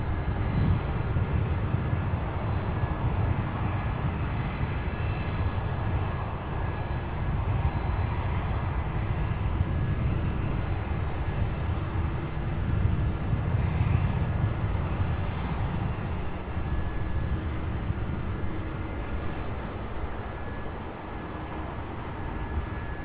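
A UPS jet taking off from runway 17 right at Louisville airport, a loud continuous engine roar with broad rumbling low end that holds steady for the whole stretch, heard from outside at a distance.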